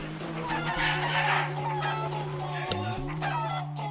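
Chickens cluck in the video game Crash Twinsanity. Their repeated clucks and a crow-like call sit over a steady droning game background tone, with a brief glitchy dip near the end.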